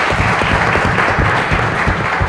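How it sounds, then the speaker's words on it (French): Loud, close applause from an audience cheering a candidate who is a writer at an event in Lubumbashi, a dense continuous patter of clapping hands with no voices on top. "Je vous prie de l'applaudir aujourd'hui"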